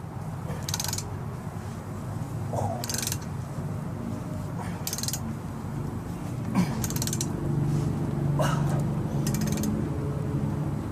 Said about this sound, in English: I'm going to make another pass with the tap